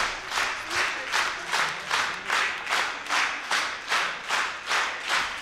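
Audience applause at the end of a concert, a steady wash of many hands clapping that swells and dips in a regular rhythmic pulse, as if the crowd falls into unison clapping, close and fairly loud with no talk.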